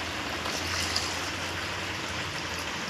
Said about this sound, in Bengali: এবার পরিমাণ মতো আমি জল দিয়ে দেবো।